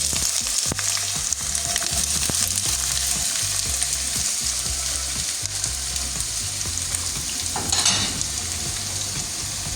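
Two finely chopped onions fry in hot oil, a steady close sizzle with occasional stirring scrapes and clinks and no talking.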